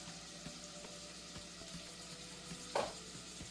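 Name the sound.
shrimp frying in a pan for lo mein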